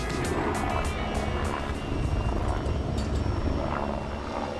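Westpac rescue helicopter near Christchurch, New Zealand, a loud continuous rotor and engine drone with rhythmic blade thumping, close and steady throughout.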